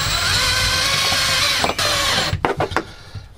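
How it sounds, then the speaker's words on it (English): A power drill whirs steadily while driving a screw and hook into an RV wall, then stops, followed by a few short bursts and clicks close by. "Now I'm screwing it to this wall because it's thicker than this."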